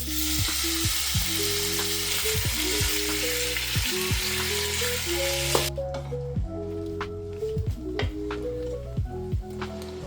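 Veal sizzles and crackles steadily in olive oil, a dense frying hiss that lightens partway through, with no voices.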